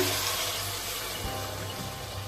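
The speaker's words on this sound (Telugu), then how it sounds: "టూ గ్లాస్ రైస్కి త్రీ గ్లాస్ వాటర్ వేస్తున్నాను" Water poured into a pot of rice for bagara rice, a continuous close rushing splash that holds steady throughout.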